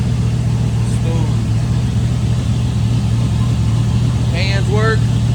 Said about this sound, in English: That is a cool running little motor.